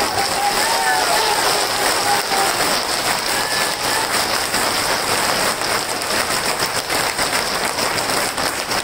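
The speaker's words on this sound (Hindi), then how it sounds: "अरे ऐसे तालियां बजाओ कि गडकरी साहब सुन पाए" Large crowd applauding at an outdoor political address to Adivasi community representatives in Gwalior, a steady dense roar of clapping that holds loud from start to finish with no pause.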